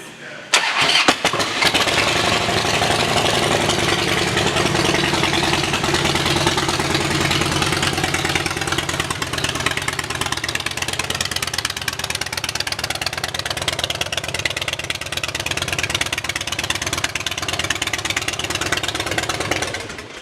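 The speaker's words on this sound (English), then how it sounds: "let's listen to the exhaust." A 2008 Harley-Davidson Dyna Street Bob with 40,370 miles cranks to life and settles into a loud, steady exhaust idle that lumbers on alone for about twenty seconds.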